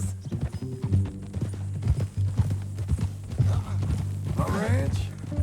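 Horse hooves clip-clop at a walking pace in the Red Dead Redemption 2 epilogue. The steady hoofbeats sit under spoken dialogue and a low musical drone.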